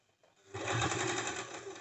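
A sewing machine stitches a cigar pant seam, starting after a quiet moment and then running as a steady, close, rapid mechanical whir with no talking.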